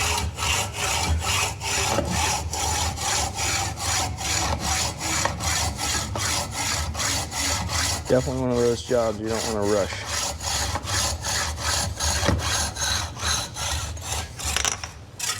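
A hand saw cuts through a bicycle fork steer tube in steady, rhythmic back-and-forth strokes, loud and close. Someone briefly speaks partway through while the sawing carries on.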